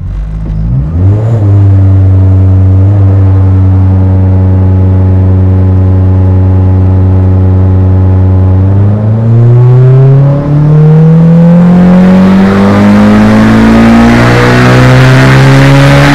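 A turbocharged B-series engine in an EK Honda Civic revs hard on a dyno pull, its loud, steady drone holding before climbing sharply in pitch through the rev range with no talking.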